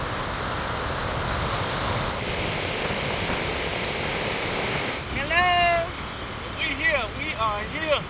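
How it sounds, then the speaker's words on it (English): Atlantic Ocean surf breaking on the shore at Saint Louis, Senegal, a steady loud wash of waves and wind, with excited voices calling out over the water in the second half. "Getting hit by these African waves."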